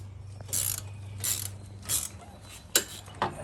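Ratcheting wrench turning a bolt counterclockwise on a Fiat 500 Abarth front brake, several short, close metallic clicking bursts spaced about half a second to a second apart, quiet and alone.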